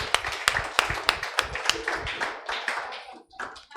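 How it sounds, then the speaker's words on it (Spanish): A small audience at a Spanish-language talk on healthy child-rearing claps. The sharp hand claps come in an uneven, fairly rhythmic series that stays close and clear for a few seconds. "vamos a darle un aplauso a ellos"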